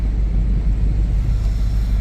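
A truck being driven and moved around a lot, with a loud, steady, low engine rumble close by that holds even throughout, and no one speaking.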